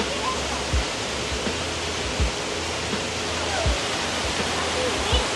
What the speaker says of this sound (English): All right, let's check out this waterfall.